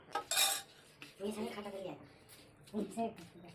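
Cutlery and dishes clink as a manager serves rice at a meal, with a sharp cluster of clatter early on and softer clinks later, while people murmur nearby.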